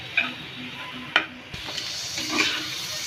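An egg frying with boiled noodle ingredients in a pan gives a soft sizzle, with a few clicks and scrapes from stirring close by.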